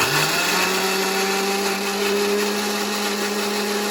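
A mixer grinder whirs steadily at close range, blending soaked red chillies with garlic and a little water into a gravy paste, its motor hum constant and loud from start to finish with no talking.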